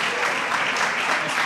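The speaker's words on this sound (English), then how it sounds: "Let's give them another big round of applause" Audience applause at a livestreamed panel event, a dense, steady wash of many hands clapping without a break for about a second and a half.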